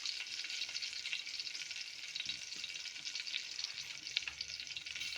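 Ingredients fry in a pan with a steady, close sizzling hiss that holds an even level from start to finish, with no voices.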